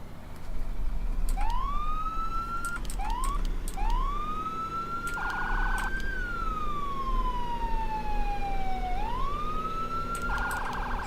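A wailing electronic ambulance siren in the video game Farming Simulator 17 sweeps up and down repeatedly, with a short yelping burst, over a steady low engine rumble.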